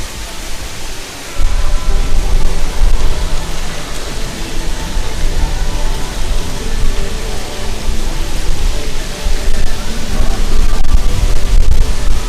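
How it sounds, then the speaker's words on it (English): Steady broadband wind rushing across the open deck of a cruise ship in the Caribbean, a continuous loud whoosh with gusty swells and no clear voices. "Wonderful breeze here in the Caribbean."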